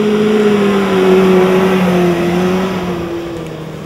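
A stock Maruti Suzuki Gypsy revs hard while off-roading in the desert, a loud close engine note that climbs and holds, then slowly drops away as the sound fades near the end.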